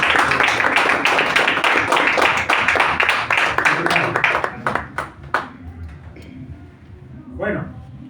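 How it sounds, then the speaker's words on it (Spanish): Church congregation claps loudly and steadily, a dense burst of applause that tapers into scattered claps and then quiet room tone with a brief voice near the end. "Así que por favor un aplauso para Dios."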